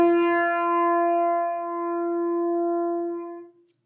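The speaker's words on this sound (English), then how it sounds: "I'll play a note on the piano." A single sustained piano note sounds alone, steady and clear for over three seconds before being damped to silence.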